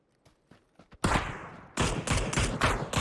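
Gunshots in PUBG: a few faint distant taps, then a loud nearby shot with a decaying echo, followed by a rapid string of heavy shots firing in quick succession.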